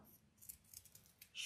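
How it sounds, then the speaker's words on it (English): Scissors snip along the edges of a paper shape, with several quick close cuts in an uneven rhythm and a louder snip at the end, with no talking. "I'm going to just trim those edges off."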